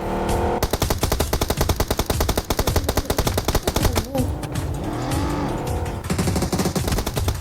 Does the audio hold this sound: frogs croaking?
no